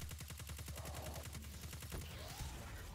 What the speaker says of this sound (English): You know, just spamming Krait auto rifle.